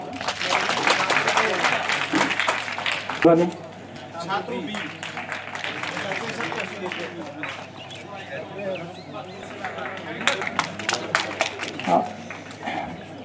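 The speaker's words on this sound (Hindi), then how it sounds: "अब तो तालियां बजाओ" Audience at a Mission Youth outreach and engagement program in Inderwal, Jammu and Kashmir, claps in scattered bursts beneath continuous amplified talk, with sharper clusters of claps near the middle and end.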